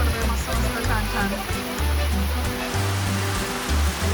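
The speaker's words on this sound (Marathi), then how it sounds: "पाऊस पडतोय मस्त मस्त छान छान" Rain pours steadily at a beachside stay in Guhagar, a constant hiss layered over low, rhythmic rumbling tones.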